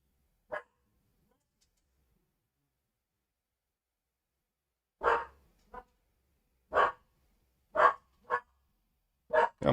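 A dog barks in short, sharp bursts, one alone early on and then a run of several quick barks at irregular gaps, fairly close, with silence in between.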